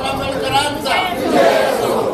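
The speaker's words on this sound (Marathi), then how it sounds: "या ठिकाणी अतिशय उत्साह आहे जल्लोष आहे" A crowd at a world literature conference in Thailand shouts and cheers in an enthusiastic burst, loud and close, with voices rising and overlapping throughout.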